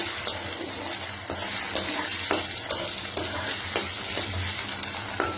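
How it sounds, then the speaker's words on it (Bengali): Cut potatoes frying in hot oil in a pan give a steady, close hiss, punctuated by regular clicks and scrapes of a spatula stirring about once a second. "এবার আলুটাকে ভেজে নিচ্ছি"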